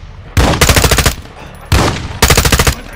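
Two loud, close bursts of rapid automatic gunfire in the video game Call of Duty Modern Warfare 2, each a rattling string of shots separated by a short pause.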